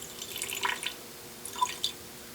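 Solvent drips from glassware at a lab bench, a few soft separate drops landing in a quiet room, faint and close with no talk.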